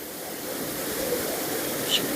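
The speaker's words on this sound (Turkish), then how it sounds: "En küçük olan şelale burası." A small waterfall on the Güneyin stream in Cappadocia gives a steady, broad rushing wash of falling water, even and continuous throughout, with no talk over it.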